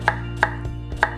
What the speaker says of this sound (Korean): 여기에 생강만 이렇게 썰어서 넣어주도록 하겠습니다.